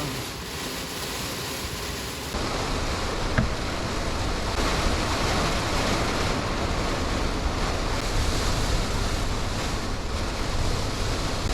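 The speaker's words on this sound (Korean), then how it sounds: "바람이 엄청 세서 차가 흔들려요" Strong wind and rain buffet a parked car during car camping on Jeju Island, a steady loud roar of gusts and rainfall filling the whole stretch, growing denser after the first couple of seconds.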